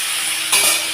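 Chopped onions hit hot oil after tempering spices, and the sizzle flares up loudly halfway through over a steady frying hiss, close by and without any voices.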